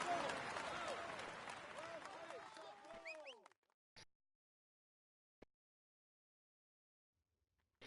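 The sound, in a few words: applause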